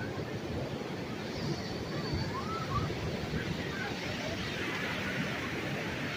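Rough sea pounds the shore at Bagasbas beach, a steady low rumble of surf and wind heard from a distance, with faint voices mixed in.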